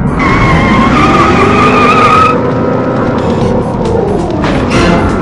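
Race car engines roar loudly in the arcade racing game Driver's Edge, with a high tire squeal over the first two seconds, then sustained engine drone and skidding noise.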